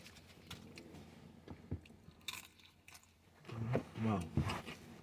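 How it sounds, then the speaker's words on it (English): A crunchy taco from a Jack in the Box Munchie Meal is bitten and chewed close up, with loud crisp crunches bunched near the end after quieter chewing. "really enjoying the crunch on every bite."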